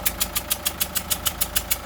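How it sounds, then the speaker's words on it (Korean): A car engine idles with exhaust gas leaking past a worn copper injector washer, giving a loud, fast, regular puffing tick, about six beats per second, steady and close, with no talk. "압축이 압축 어, 배기가스가 여기 새어 나오고 있어요"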